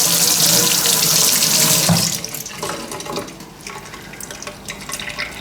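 A metal part being zinc plated is rinsed under a running tap into a sink: a loud, steady gush of water that drops to quieter splashing and dripping partway through.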